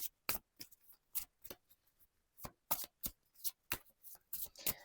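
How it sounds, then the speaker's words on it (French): Tarot cards being shuffled and drawn, a series of crisp riffling flicks and snaps close up, irregular bursts separated by short quiet gaps. "on prend quelques cartes complémentaires ici"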